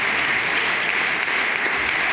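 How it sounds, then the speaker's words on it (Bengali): Sustained, loud applause from a packed audience after a film screening at the Cannes Film Festival, a dense, even roar of clapping with no break. "প্রদর্শনী শেষে করতালি যেন থামছিল না"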